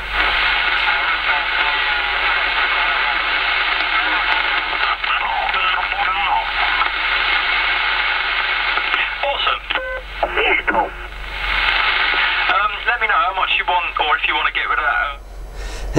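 AM band radio skip comes through a receiver with crackling static and interference, distant voices and warbling tones, loud and continuous.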